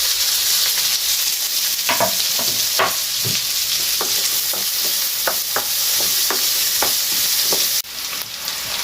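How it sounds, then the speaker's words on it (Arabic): Garlic and onion sautéing together in a pan for seafood rice, a loud continuous sizzle broken by repeated spatula scrapes and taps against the pan. "ضفنا الثوم، راح نضيف البصل أيضا ونحمسهم كلهم مع بعض"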